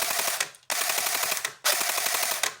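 An airsoft MG42 AEG gearbox cycles without firing, producing loud, close, rapid mechanical rattling bursts that are cut by brief pauses and repeat in a steady rhythm.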